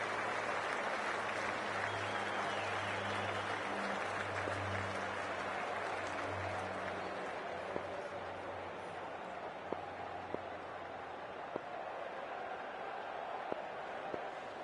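A large stadium crowd in a PS5 cricket video game applauds in a sustained wash of clapping that gradually thins out, with a few sharp claps standing out near the end.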